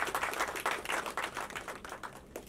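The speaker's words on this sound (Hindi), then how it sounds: "तो एक बार फिर से अगम निगम जी के लिए एक बार जोरदार तालियां." Crowd applause at a romantic ballads music album launch, brisk overlapping clapping with a choppy, pulsing rhythm, moderately distant.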